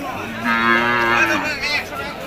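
A single calf at a cattle market in Nilphamari lets out a long, loud moo that wavers in pitch, close by, with faint crowd murmur in the background.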